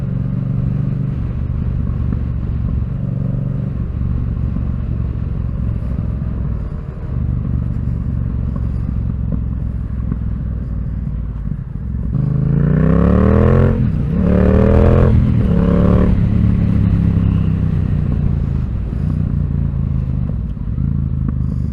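A Yamaha MT-07 motorcycle ridden on a lap, its steady engine drone rising into a louder run of revs and gear changes midway before settling back to a cruising hum.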